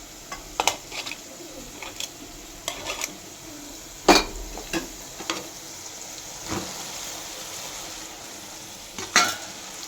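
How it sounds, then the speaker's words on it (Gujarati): Chopped potatoes are stirred into sabudana khichdi in a pan: a spoon clinks and scrapes in sharp, irregular knocks over a faint, low sizzle. "હવે આ રીતે આપણે મિક્સ કરી લઈશું"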